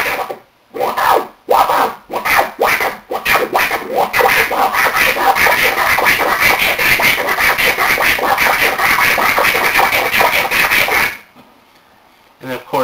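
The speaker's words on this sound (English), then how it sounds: "Now, for flaring is actually the opposite of what the transform scratch does." Repeated DJ flare scratches on a digital turntable, the record pushed back and forth in quick bursts with clicked-off gaps, loud and close, starting with a few separate strokes and then a steady run of fast rubbing scratches before stopping.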